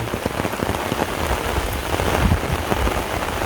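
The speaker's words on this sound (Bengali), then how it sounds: "এই জলের মধ্যে কি সুন্দর ফুটা পড়ছে।" Steady rain patters on water, a dense close hiss of drops with scattered louder splashes, no voices.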